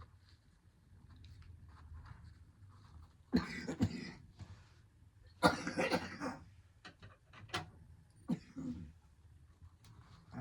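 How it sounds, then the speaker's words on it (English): Several harsh coughs come in bursts, with quiet breathing and throat noises between them. "It would not be my video if I didn't have at least a coughing attack."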